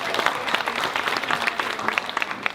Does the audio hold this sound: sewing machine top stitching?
no